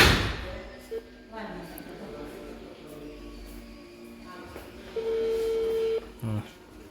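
A mobile phone calling itself through a GSM signal repeater, giving short electronic beeps followed by a long, steady ring-back tone, with a few soft thumps around it.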